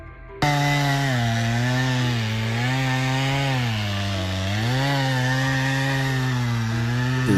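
A chainsaw cuts into a tree while it is being felled. The engine kicks in abruptly and then roars loudly and steadily, its pitch dipping and rising as the chain bites into the wood.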